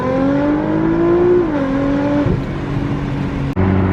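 A Nissan GT-R accelerates hard onto the highway. Its engine rises in pitch loudly and close by, then drops sharply at a gear change and pulls again with a steady drone.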